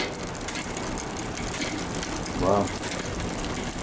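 Mountain bike derailleur drivetrain ticking and clicking as the cranks turn during a build, a steady mechanical chatter with a brief louder whirring patch near the middle and a short spoken exclamation.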